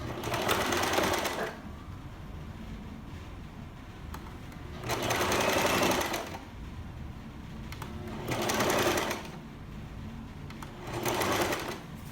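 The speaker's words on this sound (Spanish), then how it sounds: "Entonces esto lo voy a coser, lo voy a unir." A sewing machine stitches a blouse seam, joining two cut pieces, running in four loud steady bursts separated by short pauses of quiet room sound.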